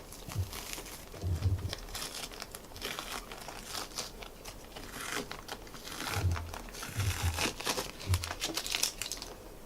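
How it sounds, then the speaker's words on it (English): Embroidery stabilizer is peeled off a towel in close crinkling, tearing bursts, with soft papery rustles between several louder pulls and no talk. "that top piece of stabilizer and just carefully and gently remove it."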